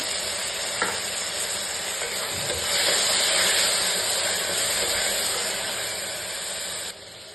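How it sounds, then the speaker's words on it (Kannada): Tomato paste hitting fried onions in a pressure cooker sizzles steadily and loudly, with a brief stirring scrape and a swell of hissing midway, then slightly softer frying toward the end; no voices. "ಇವಾಗ ಟೊಮ್ಯಾಟೊ ಪೇಸ್ಟ್ ಹಾಕ್ತಾ ಇದ್ದೀನಿ."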